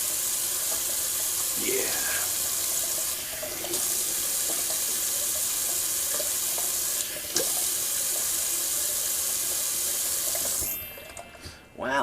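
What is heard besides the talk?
cold water rinse running from tap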